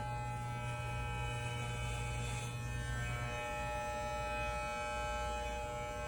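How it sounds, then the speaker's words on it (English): An electric hair clipper runs steadily while being drawn over a head, giving a constant close buzzing drone with a faint swell partway through and no talk. "run the clipper up and down your head"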